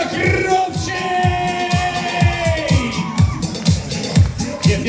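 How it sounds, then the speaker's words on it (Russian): Crowd in a nightclub cheering and clapping at a live show, a dense roar of whoops and hand claps with a rhythmic thumping beat running through it. "Больше аплодисментов, больше аплодисментов!"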